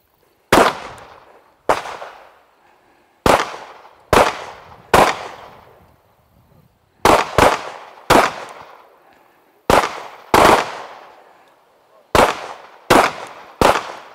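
Pistols fitted with red dot sights fire at a target on a training range, sharp loud single shots in an irregular string of about fourteen reports, some spaced in quick pairs, each with a short decaying echo and no talking between.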